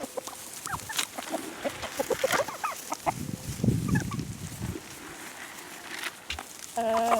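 Chickens and turkeys clucking in a pen, with many close and distant clucks and short calls scattered throughout and a brief rustle of movement midway, fairly quiet overall.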